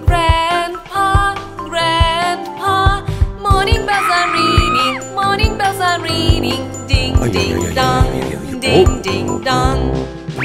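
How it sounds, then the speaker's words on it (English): A children's nursery rhyme about morning bells plays as bright music, with jingling, ding-dong bell chimes repeating in rhythm among melodic instruments throughout. "Morning bells are ringing."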